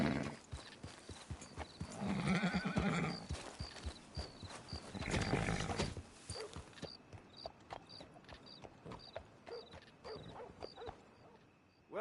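Horse hooves clip-clop in the video game Red Dead Redemption. The steady, regular hoofbeats come through clearly, mixed with other game sounds, and grow more distinct in the later part.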